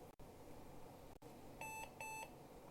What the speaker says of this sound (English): Ooh, I just got a beep beep.